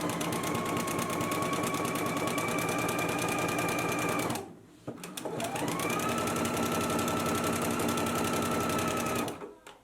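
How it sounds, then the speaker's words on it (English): A home sewing machine runs a steady fast stitch along a loungewear pants leg band seam, close and even, pausing briefly midway before resuming and then stopping. "we can go ahead and stitch it at a 5/8 of an inch seam allowance."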